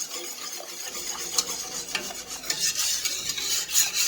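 A spoon scrapes steadily around a pot as sugar is stirred into wisteria jelly, giving a continuous gritty rasping with uneven strokes, close up and with no voices.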